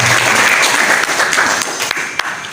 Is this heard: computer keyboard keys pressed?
no